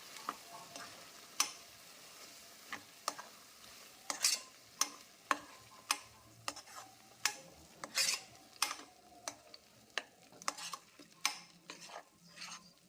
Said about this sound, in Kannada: ಇದನ್ನು ಈಗ ಕಲಿಸ್ಕೊಳ್ಳೋಣ.